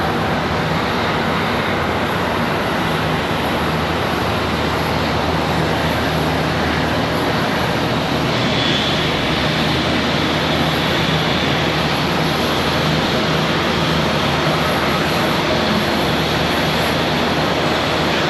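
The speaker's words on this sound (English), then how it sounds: "Delta A220. That's a first." A Delta Airbus A220 jet at Charlotte Douglas airport gives a loud, steady broadband engine roar that swells slightly and holds for the whole stretch, without a break.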